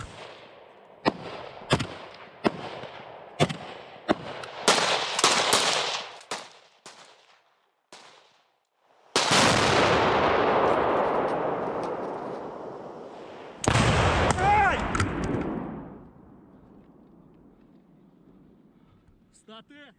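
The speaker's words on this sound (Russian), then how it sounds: "Стрельба." Sharp bangs go off in a quick irregular series, then two long roaring blasts that trail off, with a voice calling out between the shots.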